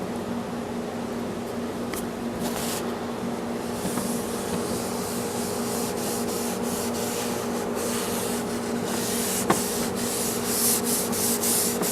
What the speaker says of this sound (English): Let's put some stain on it.